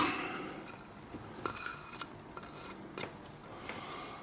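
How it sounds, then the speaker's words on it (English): Risotto being stirred vigorously off the heat, with savory blueberry and cheese, makes soft scraping and rubbing against the pot, broken by a few sharper clinks of the spoon at irregular moments; close and fairly quiet. "I'm going to take it off the heat. And I am going to stir this in."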